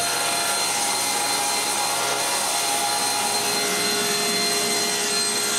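A power saw cuts recycled furniture wood into bottoms for a cottage pantry, running as a steady, loud, continuous whine and roar with no pauses.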